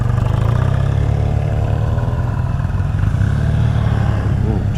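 A red BMW 700 GS motorcycle rides past on Wild Wood Road North, its engine a steady, loud drone held through the whole stretch with a slight rise and fall as it goes by.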